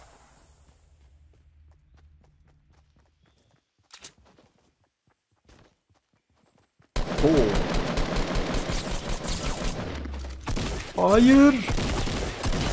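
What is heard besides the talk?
shotgun fire in Fortnite video game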